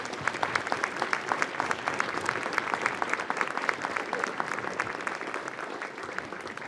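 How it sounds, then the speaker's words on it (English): Applause at a school ribbon-cutting ceremony for Sky Ranch Middle School, a steady round of clapping from a modest crowd, even and sustained for several seconds at moderate distance. "I invite you to join me in a round of applause to thank them for this beautiful design"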